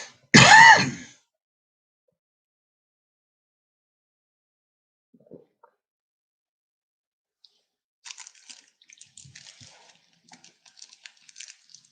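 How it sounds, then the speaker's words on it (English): One loud, close throat-clearing cough at the very start, followed by near silence with faint scattered clicks and small rustles. "while we have a little bit of a break for a cough"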